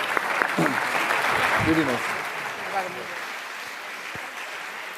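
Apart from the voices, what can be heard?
applause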